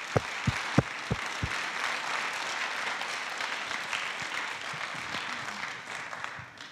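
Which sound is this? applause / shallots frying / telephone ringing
applause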